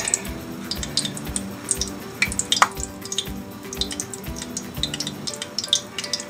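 Breaded eggplant slices fry in a pan of hot oil, giving a steady close sizzle broken by scattered crackles, pops and an occasional light clink of a utensil.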